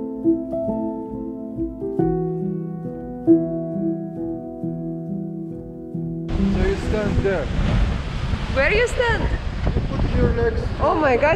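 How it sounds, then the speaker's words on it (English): Sea water surges up through a rock on the Moroccan coast with a loud, rushing gush over strong wind noise, after a stretch of music, while people talk excitedly nearby. "So the water came through the rock and it goes up."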